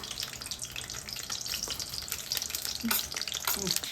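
Brinjal frying in oil in a pan, a continuous close sizzle with faint crackles and occasional stirring, no talk.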